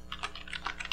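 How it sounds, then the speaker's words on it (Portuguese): Quick typing on a computer keyboard while a web address goes into a browser, a rapid run of close, light clicks with no talking. "Na hora de digitar aqui o google.com.br"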